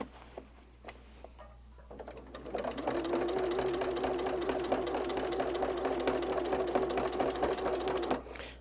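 A sewing machine stitches a seam on a holiday quilt, running steadily for about five seconds after a few soft handling clicks, loud and close with a fast even whir.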